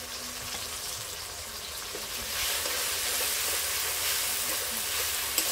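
Ground spice paste frying in a pan with browned tomato, onion and turmeric for a country chicken curry with jackfruit, a steady close sizzle that grows louder about halfway through, with no voices.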